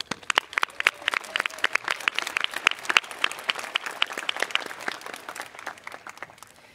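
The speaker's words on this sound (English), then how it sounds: "I would like to give them a big round of applause." A high school graduation audience applauds its teachers with a burst of sharp, distinct claps, clearly separated hits that thin out slightly toward the end.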